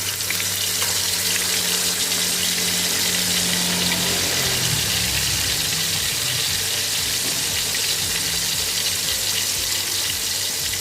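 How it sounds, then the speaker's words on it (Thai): Salted fish sizzles steadily in moderately hot oil in a pan, a continuous dense crackle and hiss that stays close and loud throughout, with a low rumble underneath and no talking. "ตอนนี้ค่ะน้ำมันนะคะ มันเริ่มร้อนแล้วค่ะ ไม่ต้องร้อนจัดนะคะ ก็ใส่ปลาเค็มลงไปเลยค่ะ"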